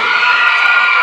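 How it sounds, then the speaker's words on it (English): Cheerleaders at a high school girls basketball game cheer in unison, a loud, bright, steady chant of voices filling the gym without a break. "cheer squad here, the cheerleaders here tonight"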